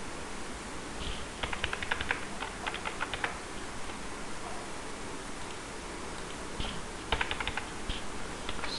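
Commands are typed on a computer keyboard in two short bursts of quick, light key clicks, with a quiet stretch between them over a soft background hiss.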